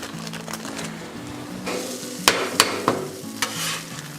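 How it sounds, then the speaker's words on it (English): An omelet cooking on a Blackstone griddle: steady sizzling under scraping spatula strokes, with three sharp metallic taps in quick succession partway through. "Okay, now I'm gonna make an omelet right here."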